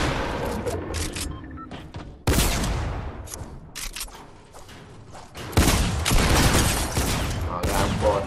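Pump shotgun fire in the video game Fortnite, with several loud blasts cracking out against other gunfire and game noise, while a player talks faintly at times.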